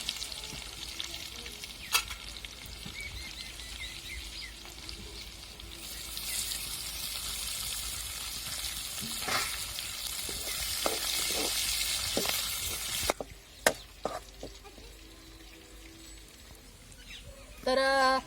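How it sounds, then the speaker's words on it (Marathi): Garlic, grated coconut and curry leaves fry in hot oil in a pan over a wood-fired stove, a loud steady sizzle that surges as ingredients go in, then quieter with sharp clinks of a utensil near the end. "लसूण आणि खोबरं चांगलं लाल झालं का आपल्याला कढीपत्ता आणि ते टाकायचं"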